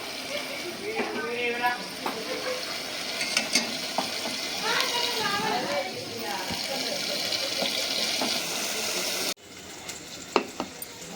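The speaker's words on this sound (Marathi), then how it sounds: "त्याच्यात थोडंसं पाणी टाकूया आणि ते अजून व्यवस्थित भाजून त्या पाण्यात भाजून घेऊया व्यवस्थित" A steady sizzle of spice paste frying in a pan for Malvani prawn curry, with splashes of water added and stirring; a person talks over the cooking noise.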